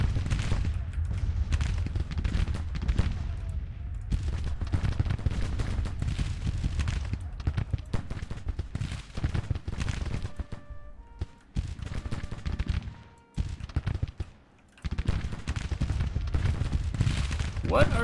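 Musket fire from a large Civil War battle at Cold Harbor in the video game Grand Tactician: The Civil War, a dense, continuous rolling crackle of distant volleys with a low rumble and a voice talking over it.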